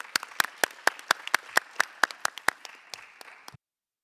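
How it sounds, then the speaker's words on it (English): A small audience of conference attendees claps for program fellows, sparse individual claps in a steady, moderately fast rhythm over a few seconds, close and fairly clear, then stopping abruptly. "Let's give them another round of applause."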